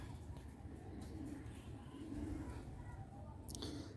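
Black-faced pigeons cooing softly in a quiet setting, low murmuring coos repeating through a faint background hum, with a brief higher rustle near the end.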